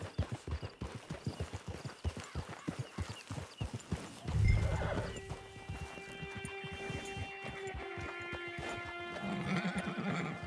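A horse in the game Red Dead Online clip-clops in a steady, close rhythm of hoofbeats, then lets out a loud, drawn-out neigh and whinny midway, followed by softer snorting as the hooves fade.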